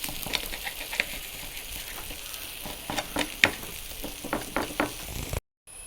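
Stuffed banana (pazham nirachathu) fries in oil with a close, steady sizzle, broken by sharp clicks and scrapes of stirring before it cuts off near the end.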